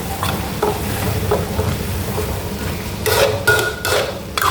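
Minced pork, red chili and fermented soybean paste are stirred together in a hot pan, with steady sizzling and frying under repeated scraping strokes of a spatula against metal, close and fairly loud.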